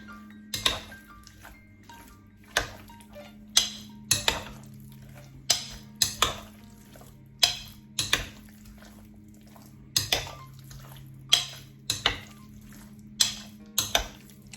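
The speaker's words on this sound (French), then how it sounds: "Maintenant, on va bien mélanger." Utensil clinks and knocks against a bowl while ingredients are mixed for chow gai pin, a steady series of close, sharp taps and scrapes repeating every second or so over a low background hum.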